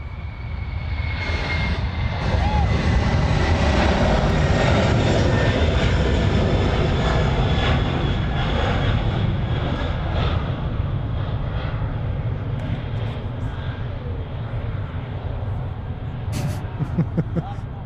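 A Qantas jet airliner departing Sydney Airport for Bangkok roars at full power, a broad loud engine rumble with a thin whine that slowly fades, while people talk over it.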